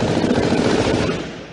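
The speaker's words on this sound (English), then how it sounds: "This is the audio of the latest firefight." Dense, continuous gunfire from a real firefight recorded during a shooting in Guyana, loud and rattling throughout before tapering off at the end, with no voices.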